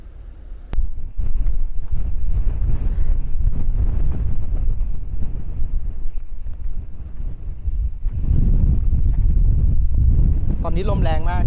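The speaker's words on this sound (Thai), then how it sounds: "ตอนนี้ลมแรงมาก" Strong wind gusts roar across the mountain viewpoint at Chapman's Peak near Hout Bay, Cape Town, buffeting the microphone with loud, continuous rumbling that eases briefly before surging again, with a voice briefly audible near the end.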